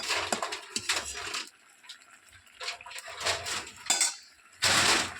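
A cooking pot of fish curry is lifted off a village stove with sharp metallic clanks and scrapes of utensils against the pot, coming in separate bursts with quieter gaps between.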